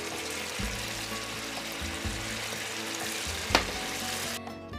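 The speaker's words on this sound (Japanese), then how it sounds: "さらに特製ブイヨンで作ったデミグラスソースをたっぷりかけて煮込みます。" Cheese-filled hamburg steak simmers under a generous pour of demi-glace sauce made with house bouillon, giving a steady bubbling sizzle with low kitchen hum beneath and one sharp clink near the end.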